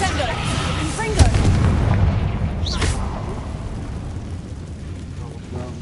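A Confringo blasting spell in a Harry Potter video game bursts with a heavy, booming explosion about a second in, followed by a rumbling tail and a second whooshing flare, loud and close.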